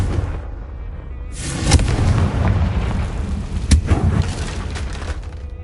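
The Confringo fire spell explodes in the video game Hogwarts Legacy on PS5, a loud booming blast that swells after a quiet start, followed by a second heavy thump and rumbling debris, with no talking.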